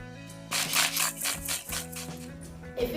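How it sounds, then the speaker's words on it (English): A homemade sound bottle is shaken in quick rhythmic bursts, its contents rattling and rubbing close and clear, with a steady tone underneath. "you can shake the bottles one at a time and ask your child,"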